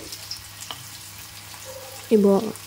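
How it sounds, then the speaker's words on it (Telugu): Veg Manchurian balls fry in hot oil with a quiet, continuous sizzle, joined near the end by a brief, louder tonal sound. "ఇప్పుడు స్టవ్ వెలిగించి ప్యాన్ పెట్టుకుని ఆయిల్ హీట్ అయ్యాక ఈ బాల్స్ అన్నీ అందులోకి ట్రాన్స్ఫర్ చేయాలండి"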